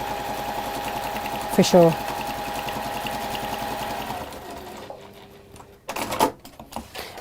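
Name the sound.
sewing machine stitching fabric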